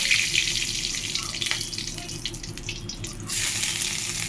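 Dry chillies, five-spice and bay leaf sizzle in hot oil in a pan, making a steady loud hiss that holds throughout with a brief louder surge near the end.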